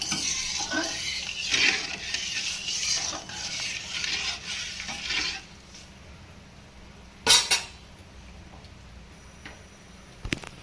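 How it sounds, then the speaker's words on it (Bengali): Hilsa fish and brinjal curry is stirred in a pot after salt and turmeric go in, busy scraping and clacking of a spoon over a gentle sizzle for several seconds, then quieter with a couple of isolated knocks. "লবণ দিয়ে দেব, হলুদ দিয়ে দেব, এরপরে নাড়াচাড়া দিয়ে মিশিয়ে দেবো"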